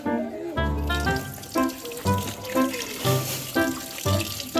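Tap water runs into a cooking pot in close, loud bursts that gush and resonate, coming in a regular rhythm of pulses of roughly half a second each.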